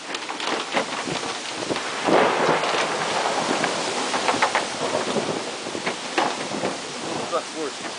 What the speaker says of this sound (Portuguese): Agora a chuva chegou com tudo.